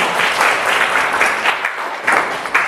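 Students in a university classroom applaud after a presenter, steady dense clapping that fills the room for a few seconds, loud and close with no talk over it.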